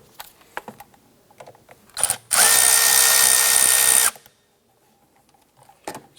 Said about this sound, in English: We're going to start by loosening the two 8mm hose clamps here.